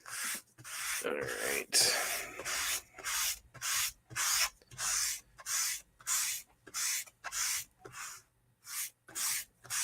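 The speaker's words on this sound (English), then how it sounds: "I'm rubbing as I'm sanding this here." Sandpaper rubs back and forth over a dragon build piece in a steady run of about a dozen rhythmic, close strokes, with a brief spoken remark near the start.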